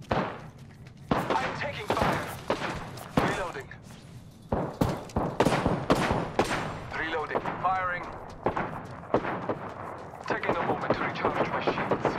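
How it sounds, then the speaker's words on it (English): Gunfire in the video game Apex Legends, repeated loud sharp shots and thumping bursts in rapid irregular volleys, with game character voice lines spoken over the shooting. "Shots fired, and they're hitting me."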